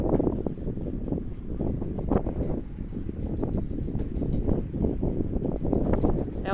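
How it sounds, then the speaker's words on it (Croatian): Steady wind blows by the sea at Rovinj, a broad low rumble with gusty buffeting throughout, close and continuous like wind striking the microphone. "Čuje se da puše."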